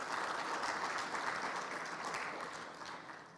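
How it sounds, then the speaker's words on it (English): An audience at the AGRF Summit 2020 opening ceremony applauds Rwanda with a dense, even wash of clapping that holds steady and eases off slightly toward the end. "A big applause to Rwanda."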